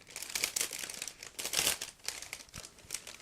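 A plastic bag holding ICM 1/35 Model T 1917 Touring kit sprues is opened with close, loud crinkling and rustling in irregular bursts for several seconds, with no talking.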